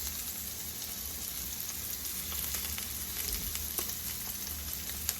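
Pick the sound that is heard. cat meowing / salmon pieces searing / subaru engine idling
salmon pieces searing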